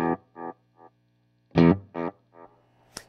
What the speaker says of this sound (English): you can hear that each successive repeat has a more extreme low cut applied to it